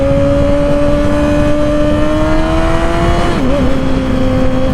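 Yamaha R6 sport motorcycle engine holding a steady high-pitched drone up close and loud, with a brief dip and recovery in pitch near the end, no voices.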